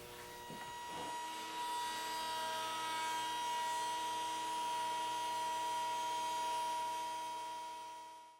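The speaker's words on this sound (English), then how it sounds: "And that dado that we just cut in the bottom will receive our runner." A router on a router table cuts a dado into a board, spinning up to a steady high whine that holds through the cut and then winds down at the end, loud and close with no talking.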